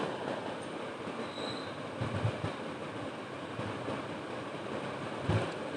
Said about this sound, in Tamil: இப்போது இது எல்லாத்தையுமே நம்ம மிக்சி ஜாரில் போட்டு நல்லா ஃபைன் பேஸ்ட்டாக அரைச்சிக்கலாம்